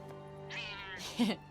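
A cat in Forspoken gives two close, clear meows, the second rising and more insistent, over a faint steady hum.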